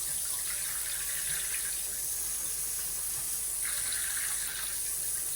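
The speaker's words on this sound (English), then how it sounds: "There's a little bit of water coming out" Water runs from a bath spout with a bath-to-shower diverter, making a steady close hiss and splash at constant strength throughout, with no talking.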